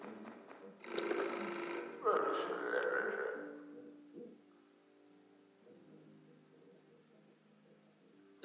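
A telephone rings in the video game Beholder, with a bright ringing burst early on that fades into a quieter, steady, rain-like ambience.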